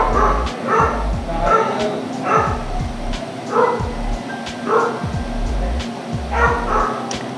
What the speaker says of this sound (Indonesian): bunyi lagi, aku agak-agak ngeri kalau ada anjing